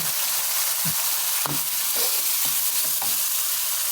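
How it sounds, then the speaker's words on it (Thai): Steady loud sizzling as sugar hits a hot wok, with a few clinks and scrapes as the contents are stirred. "ลงไปแล้วก็ฉ่าเลยครับ"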